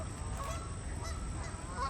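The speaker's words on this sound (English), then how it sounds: "all these geese are coming over here and bombarding her" Geese honking at a pond while they gather around someone scattering a few handfuls of feed, a steady chorus of nasal calls at moderate distance, with no talking.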